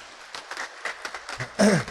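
A congregation at a Buddhist temple service gives brief, scattered clapping, soft and uneven, before a louder voice breaks in at the end.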